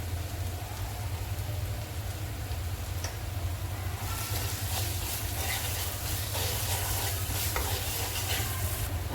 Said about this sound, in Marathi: आता आपला मसाला व्यवस्थित भाजून झाला आहे आणि मसाला व्यवस्थित तेल सोडतो आहे